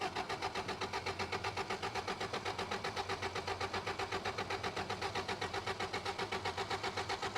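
A Toyota rock crawler truck engine, cold-started, runs steadily with a rough, pulsing idle throughout, close by and fairly loud, with no voices.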